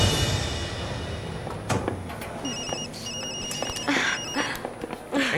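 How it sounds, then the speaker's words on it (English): A mobile phone rings with a repeating electronic ringtone, pulsing in short bursts over background room noise and movement. "I'm so sorry, it's my phone."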